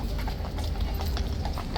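Police horses at Horse Guards clip-clop on hard ground in a brisk, continuous stream of overlapping hoofbeats, loud and close, with a murmur of crowd noise beneath.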